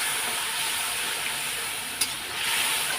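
Masala for chicken kosha stir-frying in a pan, a steady close sizzle and hiss with faint scraping and one brief clink, no voices over it.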